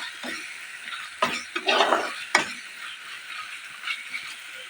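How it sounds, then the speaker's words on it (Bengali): A spoon stirs lentil dumplings (bori) into spiced oil in a pan, giving soft scraping strokes over a faint steady sizzle, with a few louder stirring scrapes in the middle. "আমি এর ভিতরে দিয়ে দেবো বড়িগুলো, দিয়ে একটু নেড়ে দেবো।"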